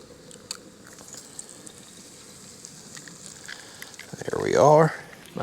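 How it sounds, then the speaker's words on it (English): Farm-fresh eggs crack into hot bacon grease on an outdoor rocket stove griddle, a low steady hiss building to a louder sizzle near the end, with faint background noise throughout. "We'll crack a couple eggs right here in this bacon grease."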